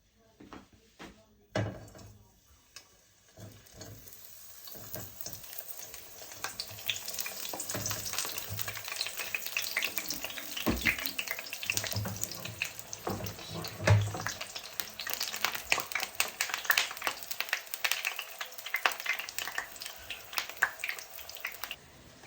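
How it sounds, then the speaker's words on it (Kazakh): Eggplant pieces fry in hot oil for a minced-meat and eggplant casserole. After a few early knocks, a crackling sizzle builds and stays steady and close, with scattered spatters and no talking. "Енді осы майымызға жаңағы баклажандарымызды қуырып аламыз қызыл-қызыл."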